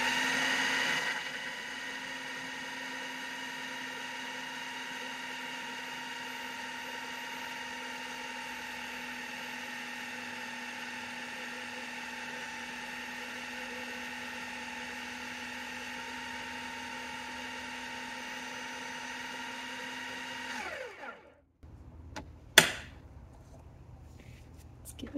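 An electric mixer whirs steadily through cake batter in a bowl for about twenty seconds, a close, even drone that winds down and stops, followed by a few clicks and knocks.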